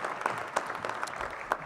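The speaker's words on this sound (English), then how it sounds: "Give her a round of applause." Steady crowd applause from an audience at a community event, many hands clapping at moderate loudness with a few sharper claps popping through the brief burst.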